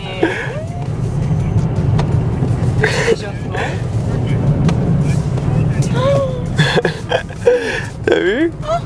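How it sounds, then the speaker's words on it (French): An Aston Martin with a 4-litre twin-turbo V8 drives toward an ice circuit, its engine droning low and steady inside the cabin while two people talk and exclaim over it throughout. "C'est un V8 biturbo de 4 litres qui fait un beau bruit."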